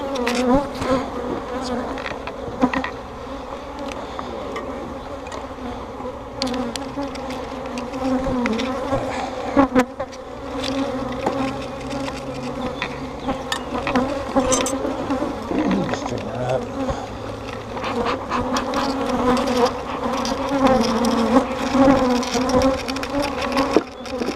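Honeybees buzzing during a hive inspection, a dense steady drone of many bees close around the open hive, with faint handling of frames underneath and no talking.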